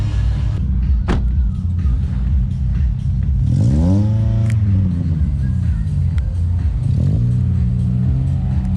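A Toyota Celica race car at a sprint race on the Pavilkijo circuit revs loudly up through the gears at full throttle, a close, rising engine roar with a sharp gear-change sweep, over a constant rumble.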